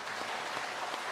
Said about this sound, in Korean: 우리 그 주님께 감사의 박수 한번 올리고.